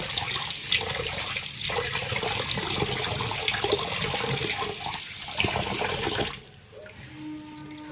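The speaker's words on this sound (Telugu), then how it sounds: "బాగా 4-5 సార్లు కడగాలండి. బాగా కడిగేసి వాడేసేసుకోవాలి." Soaked rice for Sankranti ariselu is washed in water, with continuous sloshing and swirling for about six seconds before the sound drops to a quieter trickle.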